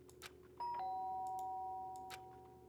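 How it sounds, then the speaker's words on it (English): A single electronic doorbell chime sounds clearly in the Danganronpa video game, a two-tone ding that rings out and fades over a quiet background hum. "The sharp sound of the doorbell pierced my sleepy haze and pulled me back to the real world."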